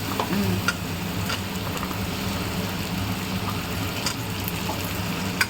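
Potatoes and turmeric sizzle in a hot pan of oil for a chicken curry, a steady crackling fry with occasional sharper pops and light stirring scrapes, close and even throughout.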